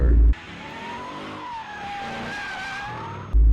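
A Mustang GT muscle car spins a donut, its tires squealing in a long, loud, wavering screech over steady engine roar, with a brief cut of other sound at either end.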